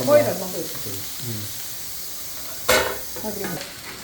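Okra stir-fried in a pan sizzles softly and steadily, with a few scraping stirs and a louder clatter near the end, under intermittent talk.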